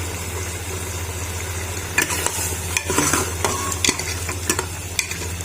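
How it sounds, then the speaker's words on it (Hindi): Lobia gosht curry with black-eyed beans is roasted and stirred in a pot as water is added bit by bit, giving a steady sizzle under a low hum, with several sharp scraping and clinking stirs toward the end. "थोड़ा थोड़ा पानी ऐड करके हम अच्छी तरह से इसे भूनेंगे।"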